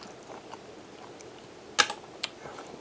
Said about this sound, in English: The center of those tater tots are starting to get soft and the outside's crunchy.